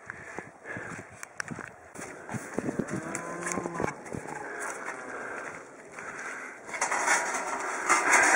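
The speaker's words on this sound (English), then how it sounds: "these cows are ready and waiting to get to that hay" Cattle waiting in a bullpen for hay: low moos and restless lowing over steady barnyard noise, with shuffling hooves and movement throughout, growing a little louder toward the end.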